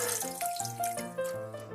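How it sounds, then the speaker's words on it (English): Water squirts and splashes from a squeezed Paw Patrol Sea Patrol bath toy, a short close-up gush with bubbly, gurgling pulses. "And he squirts out water."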